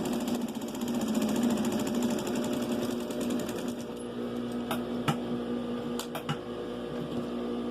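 Steady mechanical hum of a sewing machine sewing a straight seam on a five-pocket skirt pocket flap, running continuously, then easing off into a few sharp clicks and taps near the end.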